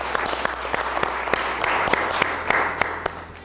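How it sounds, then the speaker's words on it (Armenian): Studio audience applause on an Armenian strength-contest TV show, welcoming contestant Vachagan Tsarukyan from Gyumri; a steady wash of clapping with a few sharper individual claps standing out, moderately loud and continuous throughout. "Մեր ծափահարությունները Վաչագան Ծառուկյան։"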